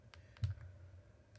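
A few light, sparse clicks of keys on a computer keyboard, faint and close, with one slightly louder press in the middle and no talking.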